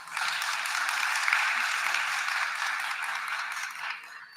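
At a contractor development roadshow in Gauteng, an audience breaks into a steady round of applause, a bright crackling spread of many hands clapping that holds evenly before tapering at the end.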